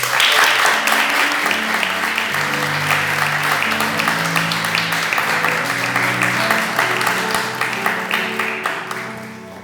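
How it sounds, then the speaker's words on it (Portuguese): A church congregation claps for the Lord during a worship service, loud sustained applause over warm organ or keyboard chords that keep playing beneath it. "Você pode aplaudir o Senhor?"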